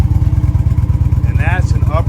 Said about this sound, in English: So now, listen to this exhaust here.